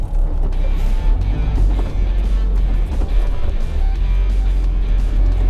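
An old Honda CRX with a B16 engine and stiff polyurethane bushings driving along, a constant loud low road and engine drone with faint creaks and rattles over it.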